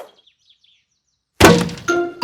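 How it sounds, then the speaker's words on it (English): A football smashes into a glass greenhouse in a cartoon garden: silence, then a sudden loud crash and breaking burst, followed by a short tonal ring. "Who's throwing footballs at my greenhouse?"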